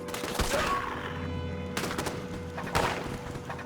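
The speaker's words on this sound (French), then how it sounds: "Il tire, il tire." Gunfire in a multiplayer video game roleplay sounds as a few sharp bursts of shots, moderately loud, with an echoing tail between them.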